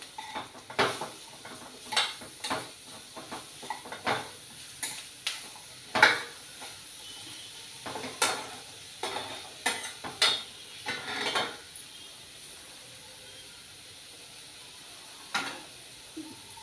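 A spoon scrapes and clinks against a pan while bottle gourd and moong dal curry is stirred, giving a string of sharp, irregular metallic taps and scrapes over a soft background hiss, with a brief pause before one last clink.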